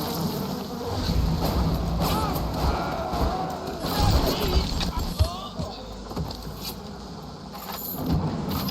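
A swarm of bees buzzes continuously in BioShock Remastered, a dense insect drone layered with game effects and occasional impacts, fairly loud throughout.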